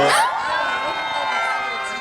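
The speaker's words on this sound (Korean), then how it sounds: "박수 한번 주세요, 여러분." Live audience at a Soju brand event with a singer on stage bursts into loud cheering and whooping, a bright burst of shouts that eases into sustained crowd noise for about two seconds.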